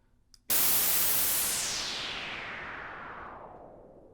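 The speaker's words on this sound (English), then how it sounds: "There you go, there's your noise crash." A white-noise crash patch in the Retro Synth synthesizer hits suddenly after a faint blip, then washes out in a bright hiss that slowly darkens and fades over several seconds.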